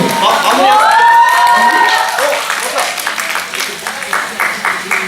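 Fans clap and cheer at a K-pop fan signing event, a steady crowd wash with voices and singing-like tones mixed in.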